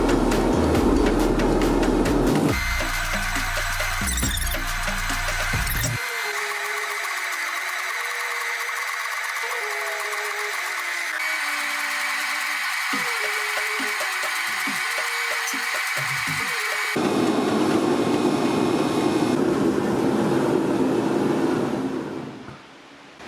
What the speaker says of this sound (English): I'm gonna go to the press and press everything nice and flat